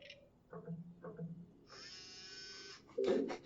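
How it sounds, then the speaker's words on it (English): In a Big Finish audio drama, 'The Juggernauts', a vacuum cleaner starts up as a steady, buzzing whine for about a second, then cuts out. Short voiced sounds come just before and after it. "Just opens up with a vacuum, literally."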